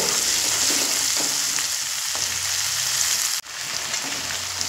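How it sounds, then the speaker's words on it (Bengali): Prawns sauté in a spice masala over a medium flame, giving a steady, close, loud sizzle with faint stirring scrapes and one brief dip near the end. "ওই চিংড়ি মাছ দিয়ে এই মশলার সঙ্গে খুব সুন্দর করে 5 থেকে 6 মিনিট মিডিয়াম ফ্লেমে কষিয়ে নেব"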